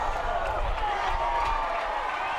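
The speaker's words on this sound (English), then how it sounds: "you hear the appreciation from the home crowd for Montana Fouts" Home crowd in Utah cheering for Montana Fouts at a professional softball game, a steady, sustained stadium roar with clapping, heard at a distance and filling the whole moment.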